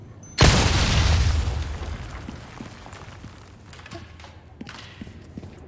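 A bomb detonates in the video game Resident Evil 4 Remake, a single sudden, loud boom with a heavy low rumble that fades over about two seconds, followed by quieter game ambience and a few faint clicks.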